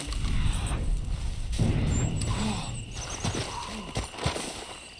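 A horse in the Red Dead Redemption 2 video game stamps its hooves in heavy thuds and lets out a short whinny, close and loud among game ambience, with a voice talking faintly.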